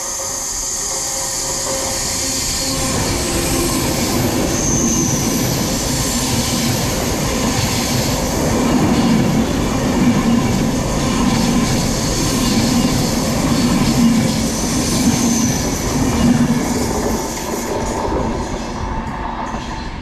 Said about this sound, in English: passing now is an Avanti West Coast service to Manchester Piccadilly from London Euston